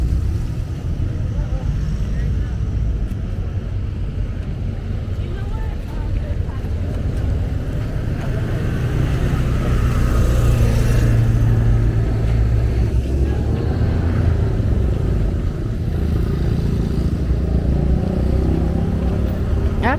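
Car traffic on a street at night in Tamarindo, Costa Rica, with vehicles passing as a continuous loud engine and tire rumble that swells in the middle, mixed with wind noise on the microphone.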